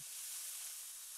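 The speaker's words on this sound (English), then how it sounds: "Sizzle, sizzle, fry the ham." A brief, faint, steady sizzling hiss of ham frying in a pan, a sound effect from the video game Mad Father, heard alone without voices.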